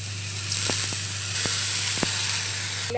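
Semolina roasting for upma in a pan gives a steady, close hiss throughout, and a few faint light scrapes of stirring come through at intervals.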